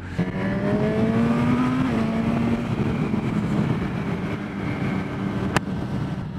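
A Honda Hornet 1000 four-cylinder motorcycle engine revs up and holds a high, smooth whine, rising in pitch then easing off, with a brief sharp click near the end.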